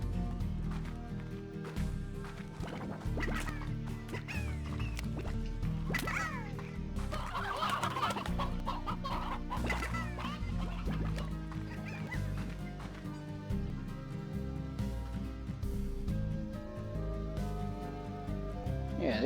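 Briar hens in the video game Slime Rancher cluck and squawk in scattered bursts over a steady bed of game music and ambience, moderately loud throughout.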